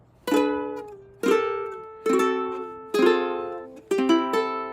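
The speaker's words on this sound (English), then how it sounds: "Now the ukulele looks and sounds like this." Five ukulele chords strummed one at a time, each ringing out and fading before the next, bright and close with no talking.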